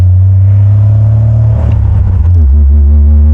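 Jeep engine roars through an exhaust with almost no muffler, a loud, deep, steady drone mixed with wind buffeting, briefly dipping in pitch near the end before settling again.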